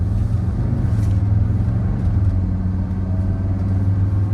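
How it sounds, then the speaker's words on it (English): A 1983 Mercedes-Benz 300D Turbodiesel accelerating on a backcountry road, its low diesel engine droning steadily with a rumbling hum heard from inside the car, no talking. "I'm going to give him a little room so I can show you how the car accelerates"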